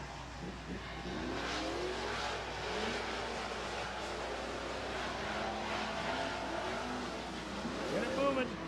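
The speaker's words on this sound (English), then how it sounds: "The top 5 trucks setting quite a pace here." Super trucks racing around a track at a feature race, engines roaring steadily with revving and passing sounds, a commentator talking over the noise throughout.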